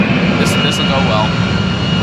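A Harrier jump jet's engine roars in a hover pit as the throttle is pushed up, a loud, dense, steady jet rush with a high whine running through it.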